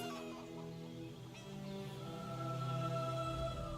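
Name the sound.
chickens clucking in the video game ESO High Isles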